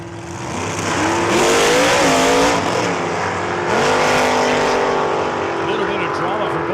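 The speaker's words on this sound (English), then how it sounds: "A little bit of drama for both vehicles there at the hit of the throttle" Two sportsman-class drag racing cars launch together at Saskatchewan International Raceway, their loud engines roaring and rising in pitch as the throttles open. The harsh, close roar rises, dips and rises again across the whole stretch.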